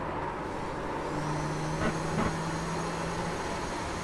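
A Nissan GTP ZX-T race car in iRacing at Spa-Francorchamps roars at full throttle, a steady, dense engine drone with a faint tonal note rising through it, heard close and continuous for a few seconds.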